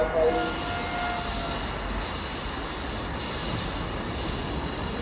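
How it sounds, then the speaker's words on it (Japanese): A Japanese train bound for Izumi-Chuo rolls into a station with a broad, steady rumble and faint wheel squeal, a brief announcement tone at the start, the noise holding evenly throughout. "ただいま到着の電車は泉中央行きでございます"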